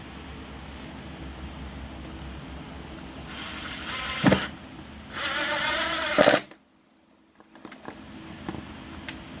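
A ratchet tightens bolts on a 2001 Yamaha R1, two bursts of quick rapid clicking close by over a low background hum, followed by a short near-silent pause.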